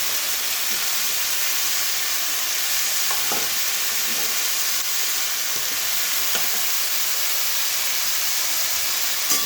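Potatoes frying in hot oil in a home kitchen pan, giving a steady, even sizzle and hiss that runs throughout, with a few faint clicks of stirring and no voices.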